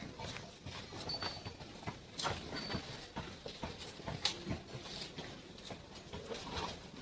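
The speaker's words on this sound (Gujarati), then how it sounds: "મસ્ત ખાઈ રહી છે ગાયો" Cows feed and shift about inside a gaushala cowshed at an old age home, giving soft scattered thumps, rustles and shuffling hoof sounds at a low level over a steady background hiss.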